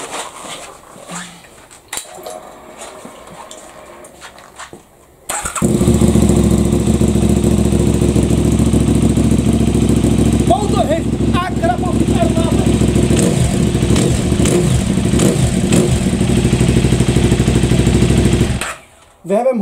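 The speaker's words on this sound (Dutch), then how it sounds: "Maar ik ga jullie deze motor laten horen." A KTM 990 SMR motorcycle fitted with an Akrapovic exhaust starts after a few seconds of quiet and handling noises, then runs loudly close by, idling roughly with several sharp revs before it cuts off near the end.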